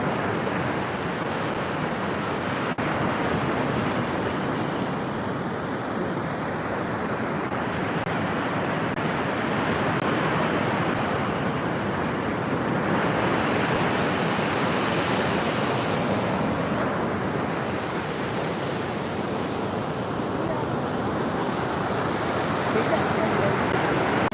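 Waves at Sawarna beach roar continuously and loudly, close by, with gentle swells in intensity and wind noise on the microphone throughout.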